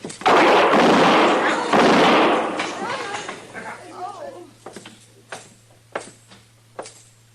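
Radio drama shootout in a Western setting: two loud, booming gunshots close together at the start with long echoing tails, followed by a string of sharper, fainter shots and thuds.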